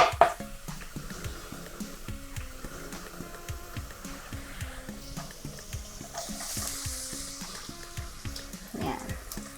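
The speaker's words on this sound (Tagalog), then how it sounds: "isusunod agad natin ang ating chopped mushroom" Chopped mushrooms and grated garlic sauté in a hot pan with a soft, steady sizzle, stirred now and then with light clinks and scrapes; no one speaks.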